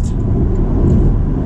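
A Porsche 718 Cayman S with a PDK gearbox accelerates on the road, heard from inside the cabin as a loud, steady low engine rumble and road roar that holds constant through the short stretch.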